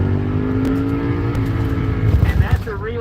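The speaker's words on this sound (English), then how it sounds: "And that's a real deal Ducati sound, isn't it?" A Ducati motorcycle with a dry clutch rumbles nearby, its low engine drone steady and then growing rougher and louder as it pulls away, with a voice speaking over it near the end.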